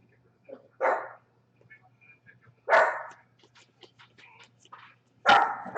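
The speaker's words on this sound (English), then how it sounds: "A little bit of a rumble, and that's what he's going to bark at" A dog barks in three loud, separated bursts near the microphone, with faint small yips and whimpers between them in an otherwise quiet room.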